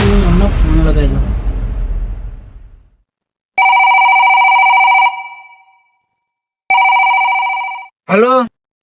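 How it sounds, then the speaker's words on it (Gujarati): Ringback tone of an outgoing telephone call: two long, steady electronic rings with a pause between them. They follow a burst of noisy room sound, and a voice cuts in briefly at the end. "એમનો ફોન લગાવી દો."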